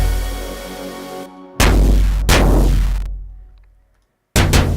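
A synthesized orchestral percussion drum with overdrive sounds loud and booming, a sustained distorted tone followed by three heavy hits, each decaying into a long rumbling tail.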